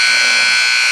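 A loud, sustained electronic buzzer sounds at the end of a high school basketball game period, a single flat continuous blare for the full second with no voices over it.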